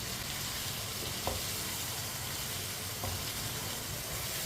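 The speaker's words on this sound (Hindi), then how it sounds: "तेज़ आंच पे 2 मिनट के लिए पका लेंगे, भून लेंगे इसे।" Dal and cauliflower fry on high heat with a dense, steady sizzle and hiss, and two faint knocks of stirring; it is quiet and even, with nobody speaking.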